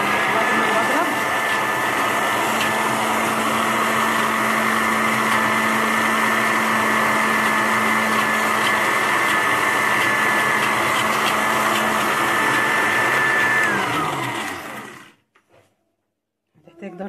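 A steady electric mixer beating a cheese mixture whirs loudly and continuously for about fourteen seconds, a high motor whine over a churning roar, then cuts off abruptly.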